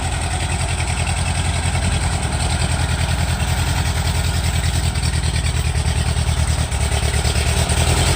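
A World War II era Ford 9N tractor engine runs steadily nearby, a loud, even low chugging that holds for several seconds with no talk.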